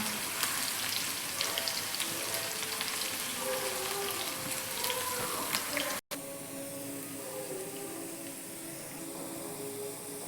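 Oil sizzles and crackles steadily in a pan as ingredients are lightly fried, with a brief cut partway through before the frying continues.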